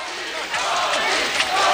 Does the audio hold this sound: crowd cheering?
yes